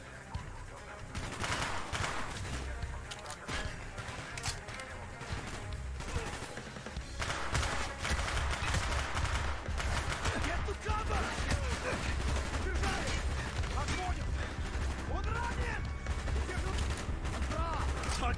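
Heavy, continuous gunfire from the video game Call of Duty: Black Ops, Mission 3. Dense bursts and rattling shots pile up with little pause and stay loud and busy for the whole stretch.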